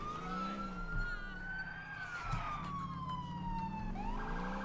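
A police car siren wails in the LCPDFR police game, a steady loud electronic tone sweeping slowly up and down and continuous through the whole stretch, with engine rumble beneath.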